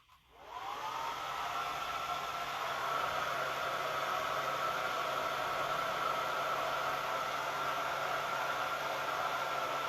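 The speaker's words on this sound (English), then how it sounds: "I'm going to have to get the blow dryer out" A blow dryer runs steadily at close range, drying a freshly made Santa belly ornament, a loud continuous whooshing roar that starts after a brief click and holds without a break.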